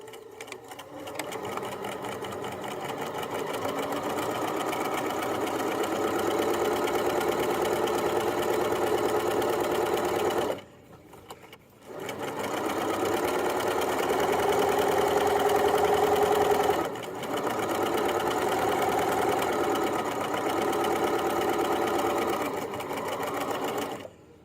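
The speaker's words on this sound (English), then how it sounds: "Okay, I now have my bottom seam sewn twice, so it's very strong at 1/2 inch seam allowance." Sewing machine running steadily while stitching the bottom seam of a drawstring backpack at a half-inch allowance, a loud continuous mechanical whir broken by two brief pauses, close up and alone.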